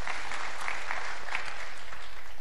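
Congregation applause at an Indonesian church sermon, a dense steady patter of many hands clapping for a couple of seconds, fairly loud and close with no voices over it.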